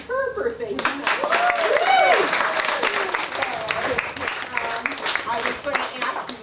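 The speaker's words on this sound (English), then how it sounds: "I was going to ask you to applaud" A birthday celebration draws loud, sustained applause from an audience at a storytelling event, dense clapping with cheers and voices rising over it, holding steady for several seconds.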